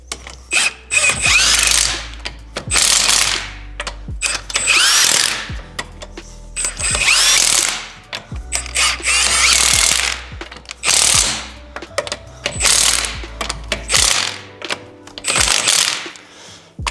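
A ratchet wrench cranks bolts tight on the AC compressor of a Mustang, loud close clicking bursts repeating in spaced runs of a second or two, with pauses between strokes and no talk.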